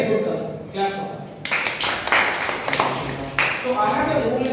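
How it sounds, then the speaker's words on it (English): Students in a college classroom clapping in two short bursts, the second brief, with a teacher's voice heard before and between them. "Clap for her."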